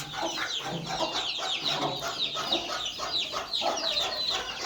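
A hen clucks in a farmyard during morning chores, with repeated short calls from one or more chickens in a steady, busy rhythm at close range, alone without talk.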